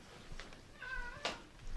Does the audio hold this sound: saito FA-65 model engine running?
no